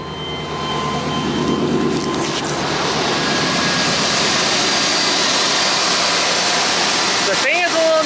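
A 1993 Chevrolet C1500 pickup engine runs steadily with a loud, noisy fan roaring close by, a broad continuous drone throughout, and a brief squeal near the end.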